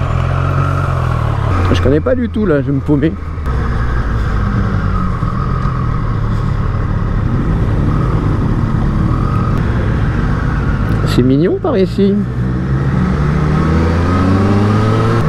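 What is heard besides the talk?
Triumph Street Triple 765 RS motorcycle starting and riding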